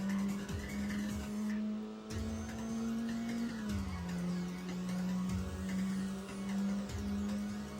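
Car engine holding a steady high drone with tire squeal in a Tokyo Xtreme Racer highway racing video game, the pitch shifting through gear changes, loud and continuous with no talking.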